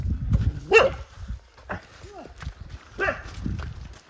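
A few sharp dog barks ring out at intervals, fairly close, with rustling movement and murmured talk between them.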